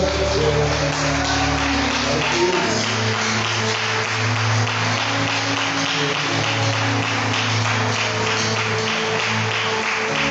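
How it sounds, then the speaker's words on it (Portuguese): Sustained applause from a church congregation during a Sunday morning service, a broad steady patter of many hands clapping, with an organ-like hum beneath. "Todos podem aplaudir essa palavra nessa manhã?"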